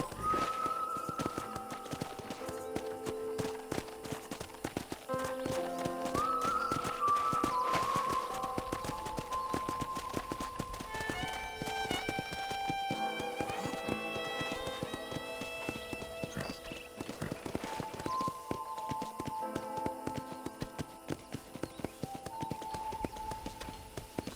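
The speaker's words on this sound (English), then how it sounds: "let's see if you can still ride a horse" Horse hooves clip-clop steadily while riding in the Red Dead Redemption game, a continuous rhythmic trot over game music, with an occasional whinny.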